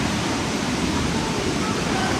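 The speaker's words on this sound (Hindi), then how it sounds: "ऊपर से पानी भी गिरता है, आवाज़ तो आपको आई गई होगी पानी की" Water falls steadily from above near a waterfall in Ubud, Bali, a dense, even rushing roar that fills the whole moment without any break.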